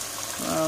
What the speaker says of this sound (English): I have chicken, I was frying, so I have to drain that with drainer